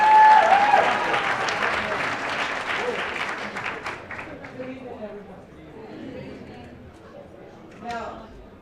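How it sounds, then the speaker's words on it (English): Audience applause at a Black voters' candidate forum for a city council race, a loud burst of clapping that gradually thins and fades over several seconds, with scattered chatter and a brief murmur near the end. "Give a round of applause for Sorrell Park."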